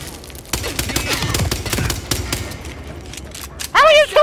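Rapid bursts of gunfire from a weapon picked up in Hitman 3, a ragged volley of sharp shots crackling for a few seconds, then a short loud tonal game sound near the end.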